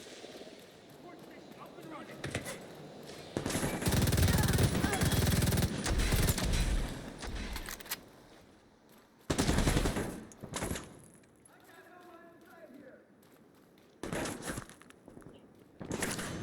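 Royal Alloys Agitator machine gun from The Division 2 firing in long, dense bursts, with a sustained roar of rapid shots, then shorter bursts after pauses and scattered footsteps between them.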